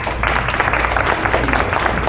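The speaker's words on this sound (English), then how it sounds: "Give yourselves a round of applause" Audience applause at a Silver Arts Follies variety show in McDowell County, North Carolina: a steady wash of many hands clapping, sustained and even throughout with no pauses.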